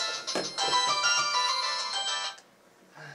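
A mini mobile phone rings close by with a bright, melodic electronic ringtone that plays for about two seconds, cuts off, then gives a short, softer trailing note.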